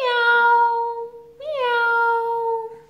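A person imitates a cat's meow with a voice, giving two drawn-out, clear meows close to the listener, separated by a short pause, with no other sounds.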